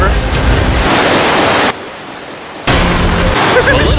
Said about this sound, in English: this river actually runs throughout the entire cave